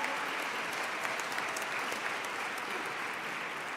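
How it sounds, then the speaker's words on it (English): An audience claps for the Indiana Steppers, a dense, even round of applause from a sizable crowd that carries on steadily throughout, with no voices standing out above it. "Indiana Steppers, give them a round of applause."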